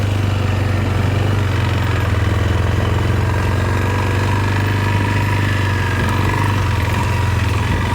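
A four-wheeler ATV engine idles with a steady low throb and rattle, close and constant, without any talking.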